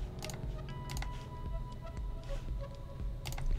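Arrow keys on a computer keyboard tapped in a few small clusters of light clicks, close and fairly quiet, over a low background hum.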